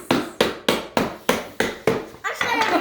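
Hammer striking a toy surprise safe during a kids' unboxing: eight sharp, evenly spaced impacts about a third of a second apart, loud and close, ending in a burst of rattling noise.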